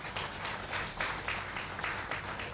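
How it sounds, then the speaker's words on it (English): A crowd at a gathering claps in a quiet, distant, rippling wave of applause that continues steadily for a couple of seconds. "So I want you to clap for yourself."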